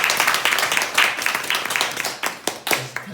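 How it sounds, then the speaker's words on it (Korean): Audience in a church gathering breaks into applause, a dense burst of many hands clapping steadily for about three seconds, fairly loud and close, with no talking over it. "박수 한번 할까요?"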